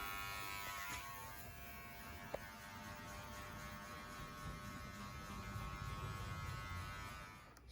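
Adjustable electric hair clippers buzz steadily while finishing a skin fade, a quiet constant hum with faint cutting texture and a small click partway through.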